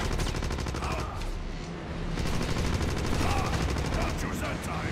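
Rapid, continuous minigun fire from a boss enemy with a Tesla-powered shield in the Wolfenstein video game, a dense rattling burst of shots that runs steadily and loudly through the whole stretch.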